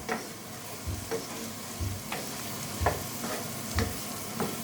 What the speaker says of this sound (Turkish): Bu böyle kavrulacak soğanla arkadaşlar.